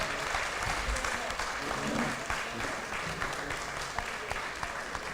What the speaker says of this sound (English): please do give a big round of applause to the honorable judges